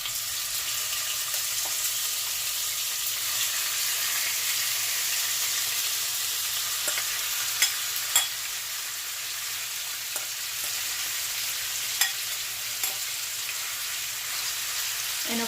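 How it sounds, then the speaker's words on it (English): Chicken sizzles in sunflower oil in a pan, a constant hissing fry heard close up, with a few faint clicks and taps of stirring over it. "And of course you're gonna hear it sizzle,"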